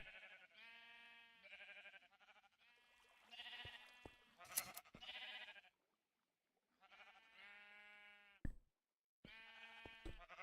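Sheep bleat on a video game sheep farm with automatic shearing, several close, clear bleats in uneven bursts separated by short silences, with a few sharp clicks between them.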